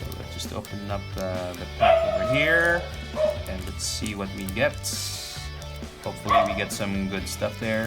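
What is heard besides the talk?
dog barking in reaction to dogs outside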